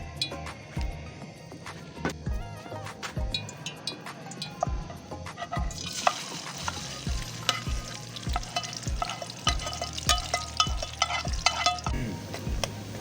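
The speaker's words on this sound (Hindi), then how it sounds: "कढ़ाई लेंगे, चूल्हे पे चढ़ा लेंगे और इसमें हाफ कप ऑयल डालेंगे और इसको गर्म होने देंगे।" Oil frying in a kadai on a stove for prawn curry, with a steady close sizzle that turns brighter and fuller partway through, broken by repeated spoon scrapes and knocks against the pan; no one speaks.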